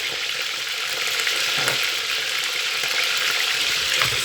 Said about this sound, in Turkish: Biberlerim bir taraftan tavada kızarmaya devam ediyor.